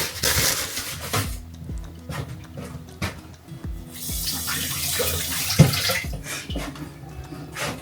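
A kitchen tap runs over a scotch bonnet pepper being rinsed, a loud steady splashing stream that breaks off and resumes a few times, close by with no talk.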